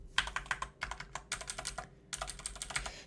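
Mechanical keyboard with blue, brown and red switches typed on in turn: three bursts of rapid, close clicking and clacking keystrokes separated by short pauses, with no talk.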